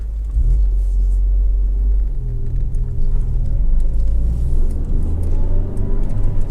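A Peugeot 208 1.6 THP GTi Prestige three-door drives steadily, its engine a loud, continuous low rumble with road noise, heard up close and with no talking throughout.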